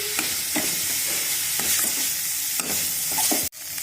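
Poha stirred and tossed in a pan over a full gas flame, a steady sizzle with repeated scraping strokes of the spoon, ending in a sharp clack.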